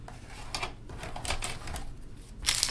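Hobby clippers snip plastic Space Wolves Sky Claw miniature parts free from the sprue: a few sharp, crisp clicks and snaps spaced irregularly, close up over a quiet room, with the last cut louder and brighter.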